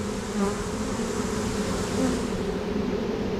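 Honeybees swarm around a garden beehive, making a dense, steady, close buzzing that holds for a few seconds without pause or talk.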